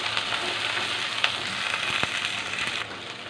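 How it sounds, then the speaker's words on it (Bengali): Frozen tomatoes stirred together with frying onions in a pan, giving a dense, steady sizzle with light stirring scrapes and an occasional sharper clink, close and continuous without speech. "দিয়ে একটু পেঁয়াজটার সাথে নেড়ে মিশিয়ে নিচ্ছি"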